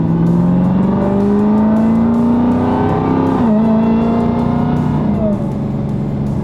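A loud supercharged 1000+ horsepower Hellcat engine with a 3-liter Whipple supercharger revs steadily higher with a rising whine, dips briefly, then climbs again before easing off, close and continuous.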